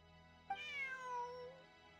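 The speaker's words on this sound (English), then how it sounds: "Bonnie is Pierre's cat." A single cat meow from Pierre's cat Bonnie in Genshin Impact rises and then slides downward, clear but fairly soft over a faint steady background hum, with no talking.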